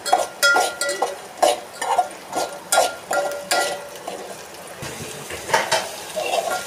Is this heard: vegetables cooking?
yes